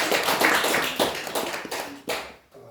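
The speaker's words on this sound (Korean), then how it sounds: "저분들 목회 잘하라고 박수 한번 해주시죠" Church congregation clapping during a Korean Sunday service, a short round of fairly close, scattered claps that fades out near the end.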